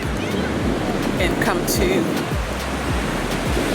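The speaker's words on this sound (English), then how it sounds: "Look how big those waves are." Large ocean waves crash and roar on a black sand shore in a continuous loud surf, with heavy wind buffeting the microphone in low gusts and a voice speaking briefly over it.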